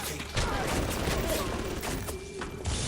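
Rapid bursts of automated turret fire in the game Bioshock, dense rattling volleys running almost nonstop and fairly loud, with brief dips between salvos.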